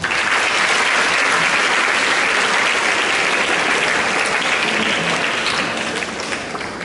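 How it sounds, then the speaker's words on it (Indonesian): Sustained applause from a seminary audience greeting the governor of NTT, a dense even wash of clapping that holds steady for several seconds and tapers slightly at the end, with no talk over it. "Tepuk tangan untuk gubernur"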